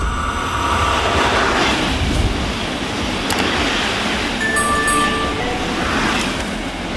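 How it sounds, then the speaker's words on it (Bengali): Steady, loud rumbling roar of Korea's first domestically built high-speed train passing, with airy hiss and a few faint high tones, continuous throughout with no voices. "এটি কোরিয়ার নির্মিত প্রথম হাই স্পিড ট্রেন"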